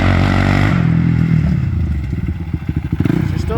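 A snowmobile-engine-swapped side-by-side with a suspected carburetor problem revs hard, then drops into choppy, sputtering bursts with clattering, loud and close.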